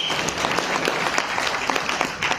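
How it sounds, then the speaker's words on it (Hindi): Loud, dense clapping from a seated audience at a cryptocurrency coin talk, with sharp individual claps standing out over a continuous wash of applause throughout, and no talking. "एक बार जोरदार तालियां आप लोगों के लिए।"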